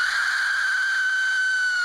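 An Aztec death whistle sounds alone in one sustained blast, shrill and piercing, harsh and scream-like with a steady high tone.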